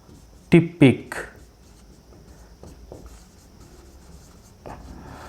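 Marker or chalk writing the genotypic ratio on a classroom board, a few sharp close strokes in quick succession followed by fainter scratches, with a teacher's speech around them.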